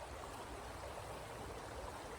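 Water flows quietly over a creek bed, a faint steady wash and trickle with no voices.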